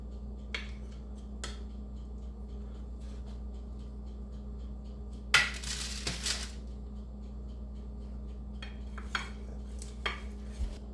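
Occasional clinks and taps of dishes and cutlery while a baked chicken dinner is plated, scattered and fairly faint, with one louder clatter burst midway over a low steady hum.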